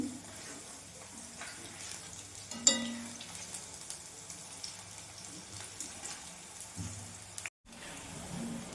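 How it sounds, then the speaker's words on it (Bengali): Spring onion pakoras sizzle in hot oil in a pan while being stirred, a faint steady crackle with a brief scraping clatter near the start and a short dropout near the end. "আমি একটু নেড়ে চেড়ে দিচ্ছি"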